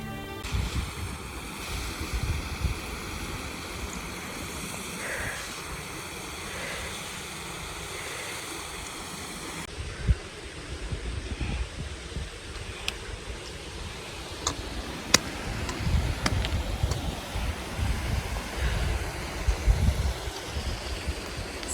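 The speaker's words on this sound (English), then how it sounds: "a delightful magical symphony of streaming water" Streaming water at Lake Michaelson on Mount Kenya, a constant rushing wash with wind gusts buffeting the microphone, steady and moderately loud over about twenty seconds, with no voices.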